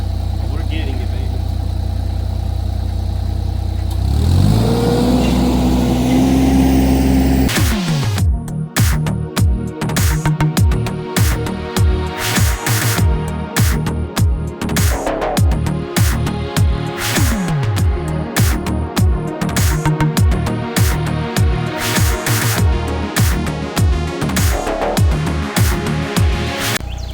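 Engine of a mini skid steer running while it lifts a whole pine tree on a junk-hauling job, a steady mid-pitched drone that rises briefly, then continues loud and close under near-constant talking.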